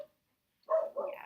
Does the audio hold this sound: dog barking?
yes